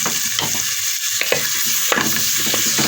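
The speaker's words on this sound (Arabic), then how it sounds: "ونديهم تشويحة" Sliced garlic and a small onion sauté in a pot, a constant close sizzle and fry broken by several scraping stirs, with no talking.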